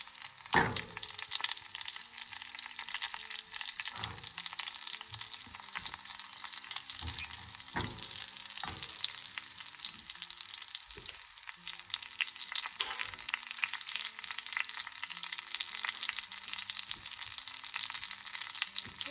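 A tempering with asafoetida fries in hot oil, a continuous bright crackling sizzle with occasional sharper pops and stirring knocks, steady and close with no talking.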